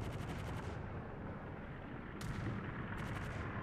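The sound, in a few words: naval artillery shells firing in World of Warships video game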